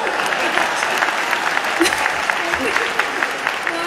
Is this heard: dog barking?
no